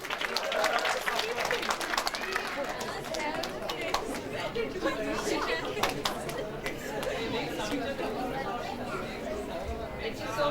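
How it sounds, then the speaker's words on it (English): Applause rolls through the audience at a school graduation ceremony, with scattered clapping mixed into loud crowd chatter and voices that carry on throughout. "A big round of applause for Nausheen Bashar."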